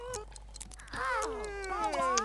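A kitten meows in The Sims 3, several soft, drawn-out cries rising and falling one after another over a quiet game background.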